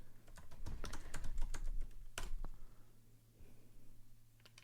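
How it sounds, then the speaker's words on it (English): Rapid keystrokes clatter on a computer keyboard, dense and close at first, then thinning to scattered taps after a pause. "Are you typing the reference?"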